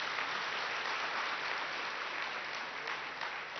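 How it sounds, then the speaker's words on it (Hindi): An audience at a spiritual gathering claps steadily, a dense even wash of applause that holds at moderate loudness throughout, with no voices over it. "ताली बजाओ, मोहब्बत है।"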